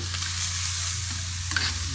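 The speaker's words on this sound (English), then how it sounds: "I got them seared, cooking on one side for about a couple minutes" Steaks, filet mignon and ribeye, searing on a hot grill give off a steady, close sizzle and crackle for the whole stretch, with a low hum underneath and no voices.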